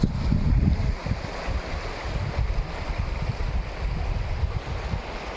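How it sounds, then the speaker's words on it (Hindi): Turbulent river water of the Bagmati surging and churning as eroding banks collapse near a village in Sitamarhi, Bihar, heard as a continuous low rushing roar mixed with gusty wind buffeting the microphone. "ये लहरें जो है उठ रही हैं"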